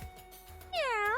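A cat creature in the Arknights video game lets out one drawn-out, rising-and-falling meow. It is loud and close, and follows a quiet stretch of soft game ambience.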